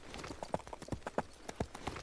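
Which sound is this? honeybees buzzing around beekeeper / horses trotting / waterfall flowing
horses trotting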